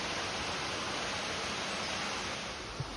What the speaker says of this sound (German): von hier hat man auch super Sicht zum Wasserfall